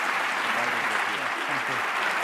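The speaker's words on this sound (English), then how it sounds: "a round of applause for this remarkable artist" Audience applause at an MIT talk greets the 2014 McDermott Award recipient, an artist, with dense steady clapping from a large crowd that holds even throughout, with no voices on top.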